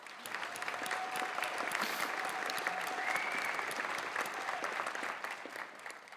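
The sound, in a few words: applause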